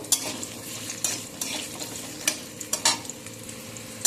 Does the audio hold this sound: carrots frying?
yes